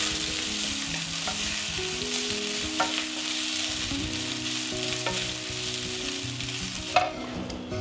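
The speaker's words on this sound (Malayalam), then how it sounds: "അതിലേക്ക് ചിരകിയ തേങ്ങ ചേർത്ത് നല്ല ഗോൾഡൻ ബ്രൗൺ കളർ വരെ നമുക്ക്" Grated coconut roasts in a hot pan with mustard seeds and curry leaves, producing a steady, close sizzle. Stirring scrapes and a few sharp clinks of the spoon cut through, and no one speaks.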